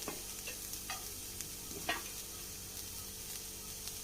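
Beef and egg samosa filling with masala being stirred in a pan: faint, soft scraping strokes at an irregular pace over a low, steady sizzle, with no one talking.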